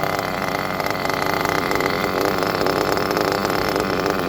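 A nitro engine being broken in idles low and steady, a close, continuous buzzing drone that holds an even level from start to finish with no talking.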